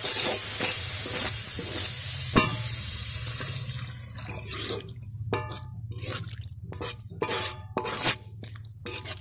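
Prawn malai curry sizzles loudly in a pan. Water is poured in, the hiss breaks into bubbling, and then come stirring scrapes and wet spatters that keep going for several seconds.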